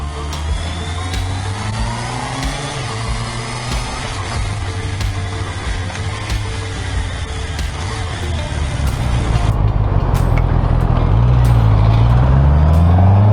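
A Honda CB650R motorcycle engine hums steadily while riding, then climbs in a loud rising rev near the end as the bike accelerates.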